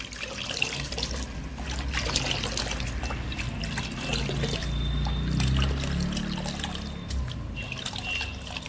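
Fresh water runs and splashes steadily into a small bucket while an aquarium filter sponge is rinsed, a continuous close trickling and sloshing for the whole stretch with no talk.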